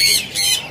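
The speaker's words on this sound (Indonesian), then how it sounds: "Jalak Bali dewasa, sudah jinak, gacor banget." A Bali myna (jalak Bali) in a bird kiosk gives two loud, harsh, close squawks in quick succession.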